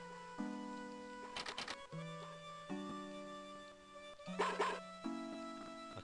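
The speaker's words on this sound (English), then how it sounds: "Okay, I can hear the barking." Short chiptune dog barks from the video game Mother 3, bursts of quick yips sounding twice amid looping electronic background music with plinking tones, with no talking.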